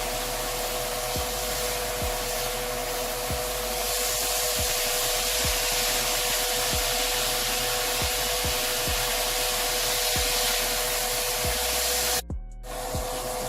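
Vegetables are stirred in a hot pan, with a steady sizzling hiss and a spoon scraping in an even rhythm roughly once a second, close by and with no talking.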